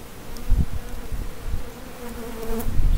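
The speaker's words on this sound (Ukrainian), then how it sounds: "Бджілка молода виходить." Young bees emerging inside a beehive during an inspection for queen cells, a close, continuous buzzing drone with a few louder swells and no talk.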